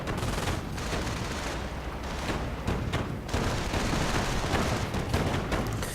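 Assault rifle gunfire, including Sturmgewehrs, in a World War II strategy game battle: dense, continuous bursts of shots and booms overlapping in a constant loud clatter.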